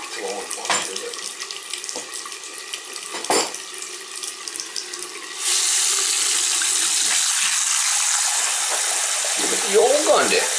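Water runs from a bathroom sink tap in a rental home: a few light clicks and knocks, then a steady, close hiss of flowing water that continues to the end.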